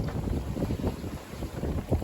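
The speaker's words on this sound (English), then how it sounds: "There we get a little surf." Rough sea surf striking and rushing along the hull of the sailboat Sea Change in heavy weather, a steady loud wash and splash mixed with buffeting wind noise on the microphone, no talking.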